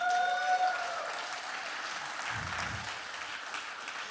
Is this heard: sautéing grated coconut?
no